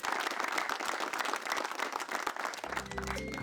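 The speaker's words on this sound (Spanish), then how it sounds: "allá fuerte aplauso" Strong, steady applause from a crowd at a Maya New Year ceremony fills the whole stretch. It is dense and continuous, and a lower droning tone rises beneath the clapping near the end.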